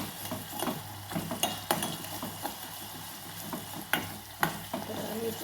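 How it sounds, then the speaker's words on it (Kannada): Carrot and beetroot stirred in a steel pot with a little oil, a soft sizzle under repeated scraping and light clinks of the spoon against the metal, close and without talk. "ಸ್ವಲ್ಪ ಮಿಕ್ಸ್ ಮಾಡ್ತಾ ಇದೀನಿ ಇಲ್ಲ ಅಂದರೆ ತಳ ಹಿಡಿಯುತ್ತೆ ಇದು ಸ್ಟೀಲ್ ಪಾತ್ರೆ ಇರೋದ್ರಿಂದ ತಳ ಹಿಡಿಯೋ ಚಾನ್ಸ್ ಇರುತ್ತೆ"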